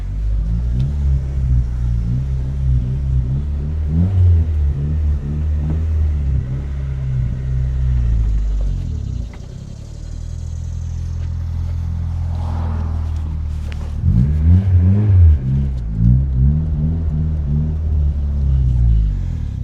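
A turbocharged Honda Civic drives and accelerates with a steady engine rumble that swells under throttle, eases off midway, then builds again, heard from inside the car without talk.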